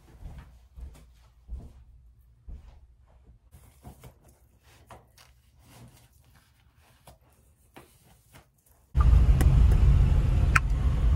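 A car sits in traffic, nearly quiet inside with scattered soft clicks and knocks, then a sudden loud, steady rush of road and engine noise takes over for the last couple of seconds.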